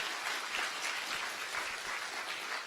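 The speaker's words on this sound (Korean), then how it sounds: "우리 박수로 환영하시겠습니다" Applause at a church industrial mission ceremony welcoming a newly appointed Gangwon regional chairman, a steady, moderately distant patter of many hands throughout with no talk over it.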